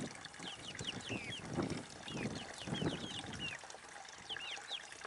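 A lavender Orpington rooster's clucking and short calls close by, several bursts in a row, with chirping birds in the background.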